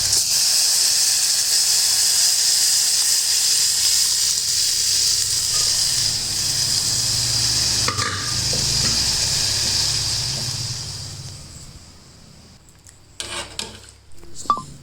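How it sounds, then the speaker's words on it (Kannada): A loud, continuous sizzle of onions frying in hot oil, steady for most of the stretch, then fading quieter with a few clinks near the end. "ಈರುಳ್ಳಿನೂ ಸ್ವಲ್ಪ ಹೊತ್ತು ಎಣ್ಣೆಗೆ ಹಂಗೆ ಮಾಗಾಕ್ಬಿಟ್ಟು"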